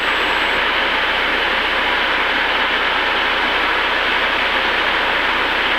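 A small airplane engine roars steadily and loudly throughout a takeoff roll on runway 17 at Olympia, a constant dense drone with no talk over it.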